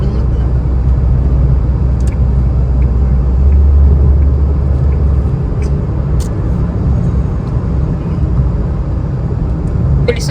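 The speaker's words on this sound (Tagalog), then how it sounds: "Bilis ng mga sasakyan dito eh." Fast cars passing on a road during a roadtrip in Brunei, a loud continuous rumbling traffic roar with swelling passes heard from inside or beside a vehicle, with no talk.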